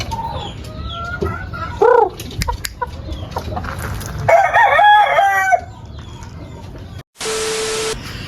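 Free-range chickens cluck and chatter nearby while a rooster crows in the middle; the scene ends with a sudden burst of hiss and a steady tone.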